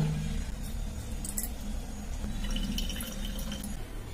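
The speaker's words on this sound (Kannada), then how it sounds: "ಈಗ ಇದನ್ನ ಒಂದು ಸ್ಪ್ರೇ ಬಾಟಲ್ಗೆ ಹಾಕೊಳ್ಳೋಣ." A Dettol-and-water mixture is poured into a spray bottle: soft, quiet liquid trickling and dripping that stays steady for about four seconds, with no voices.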